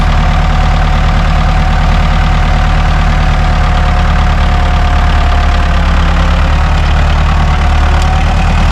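Ford 5610 tractor with a front end loader, its diesel engine running loud and close in a steady low rumble after being put in gear, with no pauses or talking.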